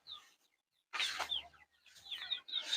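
Chickens cluck in short bursts separated by brief pauses, fairly quiet and close, with a few higher squawks mixed in.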